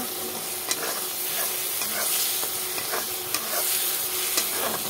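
Spice paste sizzles steadily in oil while cooking down for a katla fish, tomato and potato curry, with a spoon scraping and stirring through it in repeated taps and swishes, close and continuous with no voices.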